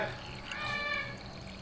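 Cold beer poured by the glassful into frying batter for crispy beer-battered pork, a steady liquid pour running for about a second under faint background noise.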